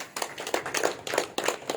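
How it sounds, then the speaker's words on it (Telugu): An audience gives a short burst of hand clapping at a spiritual discourse, uneven claps landing in quick clusters, fairly close but modest in volume, with no talking over them. "ఒకసారి మీ గతాన్ని గట్టిగా చప్పట్లు కొట్టుకుందాం."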